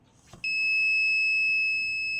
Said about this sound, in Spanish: en este caso el láser, se activa la alarma.